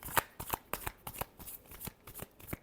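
A deck of tarot cards is riffled and shuffled in quick, crisp bursts of papery flicks, close and fairly quiet, with no talking.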